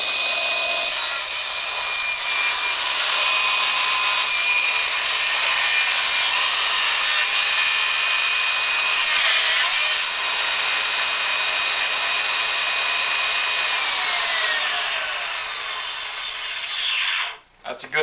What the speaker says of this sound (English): we're going to cut it off with the table saw